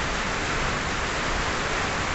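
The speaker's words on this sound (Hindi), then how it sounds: "तेज़ बारिश हो रही है, आप देख सकते हैं पूरी छत भीग गई है" Heavy rain from the year's first storm pours down steadily on a rooftop, a dense, constant hiss of water drumming on surfaces with no pauses and no voices.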